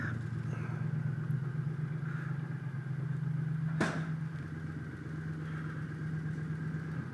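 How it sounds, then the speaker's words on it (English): A 2013 Triumph Scrambler 900 motorcycle idles steadily up close, its low exhaust rumble continuous and even, with one brief sharp click partway through and no talking. "So idles really well. The exhaust sounds awesome."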